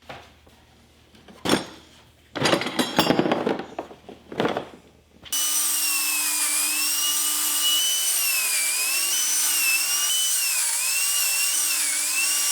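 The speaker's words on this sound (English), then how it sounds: "got the biscuit joiner out to cut all the slots" A biscuit joiner cuts slots in plywood in a workshop. A few short, rough bursts of noise give way to a loud, steady motor whine with a slightly wavering pitch that runs to the end.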